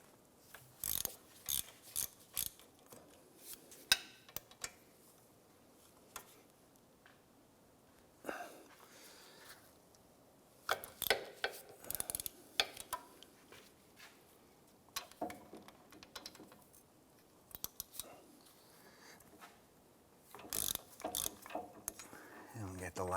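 A ratchet works on 15mm bolts holding the front wheel hub of a 2005-2007 Ford Five Hundred, giving faint, quick bursts of clicking separated by quiet pauses.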